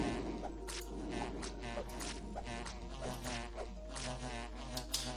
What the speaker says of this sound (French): Bon, vous me saoulez, là, les guêpes.